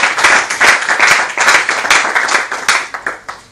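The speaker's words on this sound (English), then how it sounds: "Another round of applause for her." An audience at a university debate on air pollution gives a speaker a loud round of applause, dense clapping up close that thins into a few distinct claps as it trails off.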